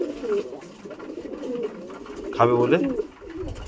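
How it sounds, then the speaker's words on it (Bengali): Pigeons coo softly while eating bread and rice in the morning, with repeated low throaty coos throughout and a brief spoken comment from a nearby voice over the birds. "তো এই পায়রা খাচ্ছে।"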